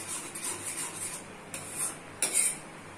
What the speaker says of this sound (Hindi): अब इस ग्रेवी को अच्छे तरीके से हमें मिक्स कर लेना है